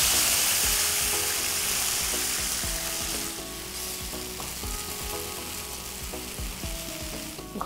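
Ridge gourd coated in poppy seed paste is added to a pan of hot tempering spices and fries with a loud, continuous sizzle. Spoon scrapes and stirring knocks come through, and the hiss eases a little partway through.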